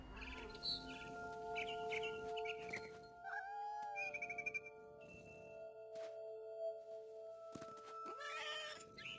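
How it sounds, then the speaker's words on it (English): Barn swallow chirping outside a window in the video game What Remains of Edith Finch, with faint, scattered tweets and trills over a quiet, soft background. "Then I heard chirping outside my window. It was a barn swallow going back to her nest."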